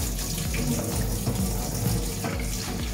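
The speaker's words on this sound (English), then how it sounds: "remove the water tank and rinse it well. You can do this with warm water." Steady running water from a tap splashes continuously into a Bosch Tassimo Finesse coffee machine's water tank during rinsing, a constant hiss with a slight gurgle.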